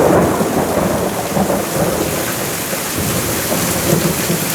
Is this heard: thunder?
yes